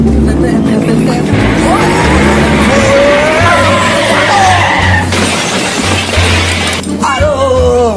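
A speeding motorbike skids and crashes in a short film scene, with a loud tire screech, scraping and a smashing impact close by, while voices shout over it.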